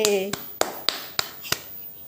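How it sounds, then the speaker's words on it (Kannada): A baby clapping hands gives four or five sharp, evenly spaced claps close by, following a brief voice at the start. "ಚಪ್ಪಾಳೆ"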